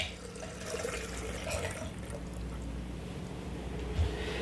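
Filtered water pouring from a Brita pitcher, a faint, soft trickling splash held steadily for a few seconds at close range.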